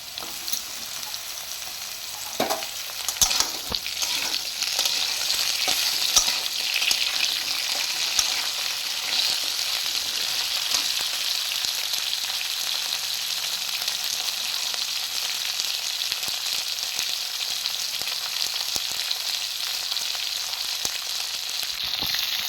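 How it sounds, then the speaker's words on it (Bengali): Potatoes and drumstick stems fry in a pan, a loud, continuous close sizzle with a few sharp stirring knocks near the start, no voices over it. "আলুটা আমার একটু হালকা ভাজা হয়ে গেছে আমি এর মধ্যে ডাটাগুলো দিয়ে দিচ্ছি"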